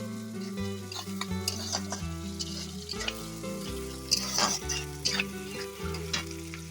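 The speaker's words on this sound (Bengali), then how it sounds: "পেঁয়াজটাকে কিন্তু আমি একটু লাল লাল করে নিচ্ছি।" Onions frying in a pan over a wood-fired stove in a rural Sundarbans village kitchen: a steady, continuous sizzle running beneath louder melodic background music.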